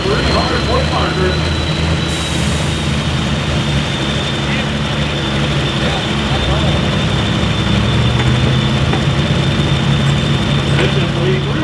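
Custom-built John Deere pulling tractor in the 9300-pound super farm class, running down a dirt pull track in Viroqua, Wisconsin: a loud, steady engine roar throughout with crowd noise and an announcer talking over it.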